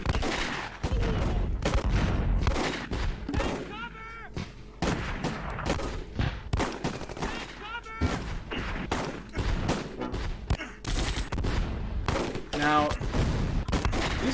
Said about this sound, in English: These guys have MG42s in this squad. They can shoot through wood.